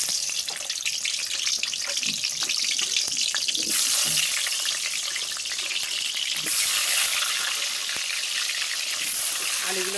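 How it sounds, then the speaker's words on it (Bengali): Potatoes frying in hot oil in a wok make a dense, continuous sizzle up close. Bursts of spattering and light stirring clatter rise and fall over the steady crackle. "দেখো এবার আমি এই তেলেতে দিয়ে দেবো আলুগুলো"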